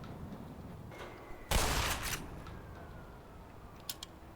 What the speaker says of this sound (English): I don't mind firing off a number of shotgun rounds at it.